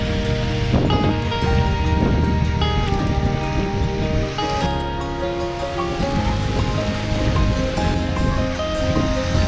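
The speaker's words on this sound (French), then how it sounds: "Alors nous voici à la chute d'eau." A waterfall in Québec's Gaspésie region pours with a steady, dense roar under a light wind. The noise stays loud and constant throughout, with no talking.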